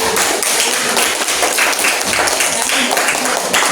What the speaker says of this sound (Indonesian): Tepuk tangan untuk Evan kelompok 2.